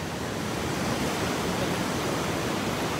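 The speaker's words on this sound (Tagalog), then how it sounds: "ang lakas ng alon ngayon" Continuous roar of ocean surf, waves crashing in a broad, unbroken wash of noise with no talking.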